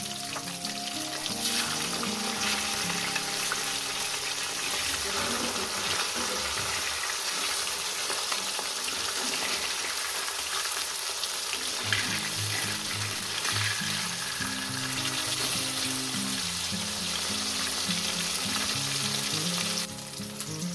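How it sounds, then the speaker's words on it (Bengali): Rohu fish pieces frying in hot oil, a dense, continuous crackling sizzle that holds steady at close range for the whole stretch, with faint low clatter underneath and no one talking. "মাছগুলো আমার একদিক করে ভাজা হয়ে গেছে আমি অপর সাইডটা আস্তে করে উল্টিয়ে দেবো"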